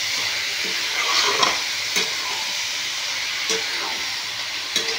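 Cabbage stir-frying with spices in a pan, a bright continuous hiss of sizzling oil punctuated by several scraping stirs, up close and heard without talk.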